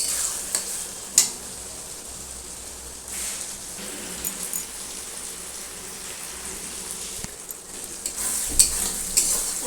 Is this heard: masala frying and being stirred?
yes